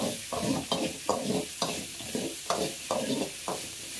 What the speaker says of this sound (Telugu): అల్లం ముక్క కొద్దిగా, వెల్లుల్లి రెబ్బలు ఒక 6 ఇందులోకి వేసుకొని అన్నీ కలిపి ఒక 5 మినిట్స్ ఫ్రై చేసుకోవాలి